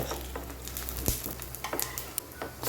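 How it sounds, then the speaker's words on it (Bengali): Gram flour fritters frying in a modest amount of oil, giving a soft, close crackle and patter of sizzling with occasional sharper pops and a light utensil knock. "এইভাবে সব বড়াগুলি আমি অল্প অল্প লাল করে ভেজে নেব"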